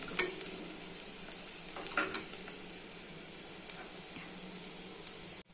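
Steady sizzling of garlic frying in a hot pan, with occasional scrapes and stirring clicks, close and continuous.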